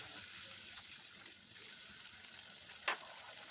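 Kofta gravy with sour curd being stirred in a pan, a steady sizzling hiss throughout with one brief louder scrape of the spoon near the end.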